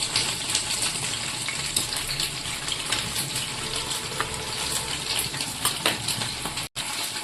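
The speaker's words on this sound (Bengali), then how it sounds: "এবার আমি কাজু কিশমিশটা ওর উপরে মিশিয়ে দিচ্ছি" Cashews and raisins get stirred into freshly cooked sweet Bengali basanti pulao in a wok, a dense continuous frying hiss with soft scraping strokes, close and fairly loud, without talk.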